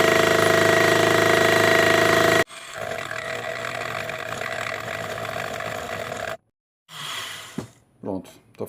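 A metal part has its first face machined, a loud, harsh, steady grinding roar that stops abruptly, then silence and a few brief clanks.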